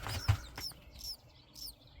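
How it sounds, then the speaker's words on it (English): Baby birds in a nest tucked inside a house's gable vent give several high, thin chirps in quick bursts, close by, alongside a few soft low bumps. "It's a bird's nest with live birds."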